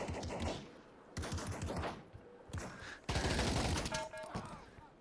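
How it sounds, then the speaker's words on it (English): Automatic rifle fire from an AK in a virtual reality shooting game, loud close bursts of rapid shots broken by short pauses, ending in a heavier, denser volley. "Got an AK."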